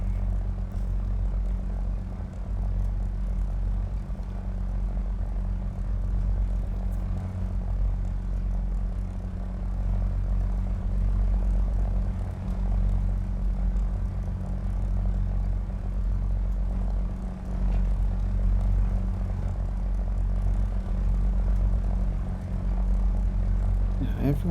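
Twin-engine P-38G-1 fighter plane in War Thunder simulator combat, with a steady, loud low propeller-engine drone holding at constant power throughout.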